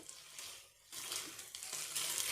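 Minced meat cooking in a pan over a raised flame, giving a continuous hissing sizzle as the moisture boils off, fairly quiet, with a short dip partway through.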